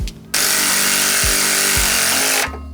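A power tool spins a screw threaded into a stuck brake rotor on a Subaru hub to push it off, a loud continuous whir lasting about two seconds with a few heavy thuds underneath, then stopping.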